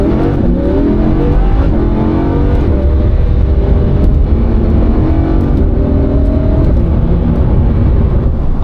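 A Lamborghini Huracan's naturally aspirated engine revs loudly and continuously from inside the car on a drive, a dense sustained roar with rising and falling pitch and no talk over it.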